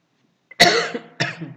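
A lecturer coughs during a class lecture, one sharp, close cough followed a beat later by a second, shorter one, then quiet.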